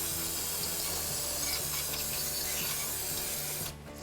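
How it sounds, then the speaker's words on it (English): Parts cleaner sprays onto a rusty spindle in a steady, close hiss that runs for about three and a half seconds before cutting off. "take some parts cleaner and clean all the rust and debris off of this spindle."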